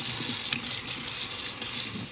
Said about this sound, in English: We'll turn it over, give it a little scrub, run it under the water.